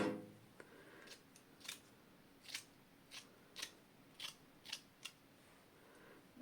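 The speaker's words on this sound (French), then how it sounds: "je vais découper mon petit rond dedans" Scissors cut a small circle from paper, giving about a dozen crisp, close snips spaced unevenly over a quiet background.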